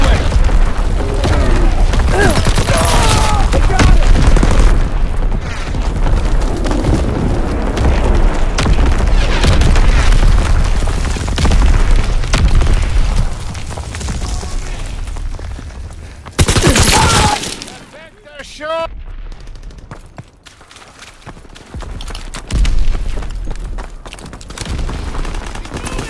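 Heavy bombing and rattling gunfire in Call of Duty WW2's D-Day map pound almost nonstop, with a huge blast around the middle, then quieter sporadic shots, under intermittent radio-style voices.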